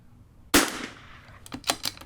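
A single loud rifle shot cracks out at a shooting range and rings off in a long decaying tail, followed by a few sharp clicks and knocks close by.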